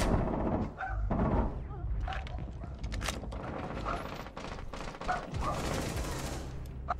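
Gunfire in a Rainbow Six Siege match: repeated sharp shots and short bursts at moderate distance over a busy mix of game noise, with faint voices in the background.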